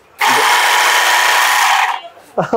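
Battery-powered bag closer sewing machine stitching shut a sack, one loud continuous high whirring run of about two seconds, close up, with brief talk just before and after.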